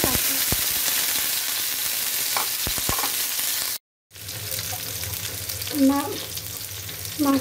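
Potatoes frying in a pan hiss with a steady, loud sizzle, broken by a few clinks of stirring and a short silent gap before the sizzling resumes with more bubbling and spatter.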